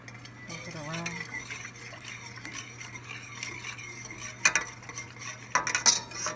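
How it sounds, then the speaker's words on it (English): A whisk stirring butter and a packet of Alfredo powder through sauce in a pan makes soft scraping and light clinks, with a few sharper metallic taps near the end and a faint voice early on. "So we're gonna add the pack, and we're gonna whisk it around."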